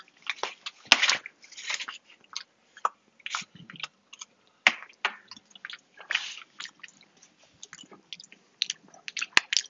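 Close, wet chewing of a bite of chicken pot pie with flaky crust, irregular squishy bites and soft crunches repeating over ten seconds with no talk.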